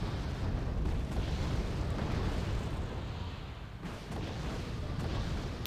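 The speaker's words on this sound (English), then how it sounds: "Missile is firing." A missile firing and exploding in the Wargame Red Dragon strategy game, a dense, loud roar of blasting rumble that carries on throughout, with a brief dip before it swells again.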